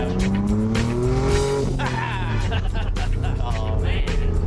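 Twin-turbo V6 in a 1955 Ford F100 restomod pickup driving on the road, a loud engine note with shifting pitch and tire noise, heard steadily throughout.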